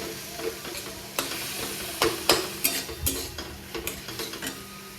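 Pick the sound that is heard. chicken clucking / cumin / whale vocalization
cumin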